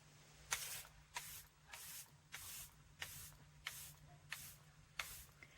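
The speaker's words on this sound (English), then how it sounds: "So you're going to want to set the powder with setting spray." Charlotte Tilbury setting spray is pumped in eight quick, evenly spaced misting bursts, each a short soft hiss, close and quiet with a faint hum beneath and no talk.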